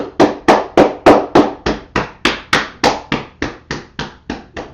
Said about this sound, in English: let's tap our way down from the buttocks down the back of the leg